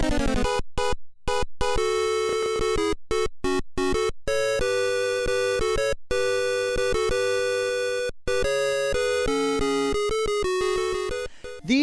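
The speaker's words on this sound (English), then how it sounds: "2 tracks emit pulse waves or square waves, and both have volume control and pitch bend capabilities" Mega Man 2 NES pulse square-wave channels playing a bright, buzzy chiptune melody with harmony, steady beeping notes and brief gaps between phrases, fairly loud and with no voices.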